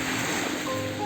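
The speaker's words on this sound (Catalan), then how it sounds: "Ja hi ha aquí el mar" Sea waves wash along the Costa Brava coast near Begur, a steady, close rush of surf filling the short stretch without pause.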